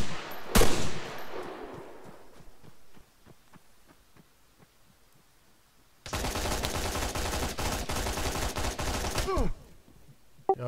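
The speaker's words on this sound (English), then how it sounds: "Machine gun. 100 meters." Automatic machine gun fire in the military game Arma 3 rattles in a sustained burst of about three and a half seconds after a sharp opening shot and scattered faint pops, with a brief voice in the background.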